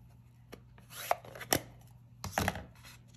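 A rubber stamp pressed and patted repeatedly onto an ink pad while crafting multiple cards, giving a few soft dabbing and rubbing thumps close by, with quiet pauses between them.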